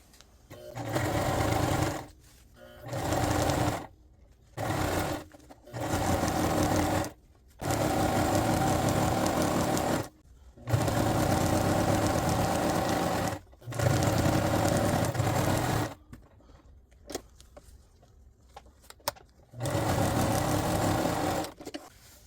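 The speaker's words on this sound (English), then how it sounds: "And now we sew." A sewing machine stitches cosplay fabric in repeated bursts of steady, close whirring, separated by short pauses as the seam is guided along.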